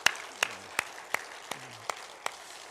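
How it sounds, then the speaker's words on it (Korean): A small church congregation claps for the pastor at a worship service, a faint, sparse run of about seven separate claps at a slow, even pace, with quiet talk underneath. "우리 노태진 목사님께 우리 감사의 박수 한번 하도록 하겠습니다"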